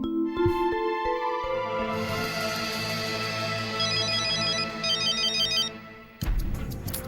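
A melodic phone ringtone plays loudly and steadily, its repeating electronic tune cut off abruptly near the end by a burst of noise.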